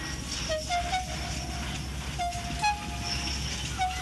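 A toy-like train sound effect from a storybook scene with a steam engine: a low chugging rumble with repeated short whistle toots, fairly faint and steady, no speech.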